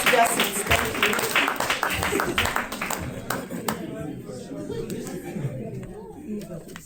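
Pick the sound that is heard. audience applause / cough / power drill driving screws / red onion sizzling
audience applause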